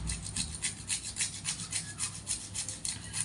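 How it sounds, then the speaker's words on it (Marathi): Rhythmic scraping strokes of whole nutmeg rubbed on a small grater for besan laddu, about a dozen quick close strokes in a steady back-and-forth pattern. "जायफळ पण थोडं खिसून घालूया"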